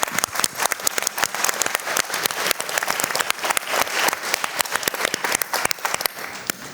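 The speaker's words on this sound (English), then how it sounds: "I'd like to invite you all to give us a round of applause to the brilliant panel" An audience at a global anti-scam summit applauds a panel, a dense and steady round of clapping from a large crowd that holds throughout at full strength.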